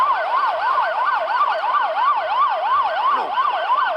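A police car siren wails loudly and close by in a fast, steady up-and-down yelp, repeating without pause over faint traffic noise.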